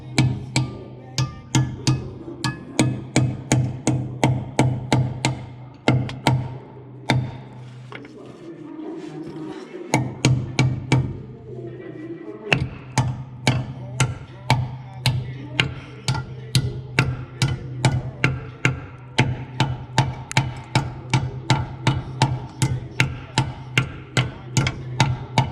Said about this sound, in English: This metal bar here. So first of all, I'm going to bash shit out of it